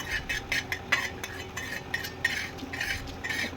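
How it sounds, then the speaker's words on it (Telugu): Coriander seeds dry-roasting in a pan for a Maharashtra kala masala curry, stirred with a utensil in a steady run of close scraping and rattling strokes and light clinks against the metal. "మన ధనియాలు కూడా దూరగా వేయించుకోవాలి"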